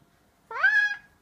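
A hungry cat lets out a single clear, close meow that rises and then trails off, lasting about half a second in an otherwise quiet room.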